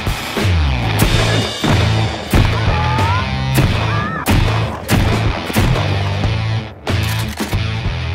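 Heavy booming shotgun blasts from Sons of the Forest gameplay, fired in a steady series roughly every second, loud and close with ringing tails and no voices over them.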